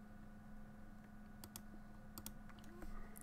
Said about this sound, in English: Sorry if you guys can hear the clicking, like if it's really loud, but my mouse is like right under the microphone